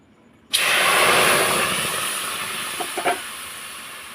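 Water splashed into hot, deeply fried semolina for a sweet suji dish sets off a sudden loud steam hiss that starts abruptly and slowly fades, with a few small sputters near the end.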